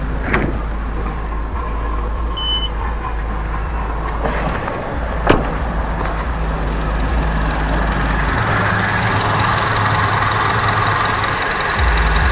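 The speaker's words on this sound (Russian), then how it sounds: "Это у нас форсуночки так работают." A car engine running on petrol idles steadily with a soft, fast ticking of fuel injectors over a low hum, and a single sharp click partway through; no voices.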